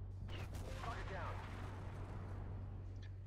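A guided missile fires from a tank in the Armored Warfare video game, a muffled blast and whoosh early on with a trailing rumble, over a steady low engine hum while a voice talks.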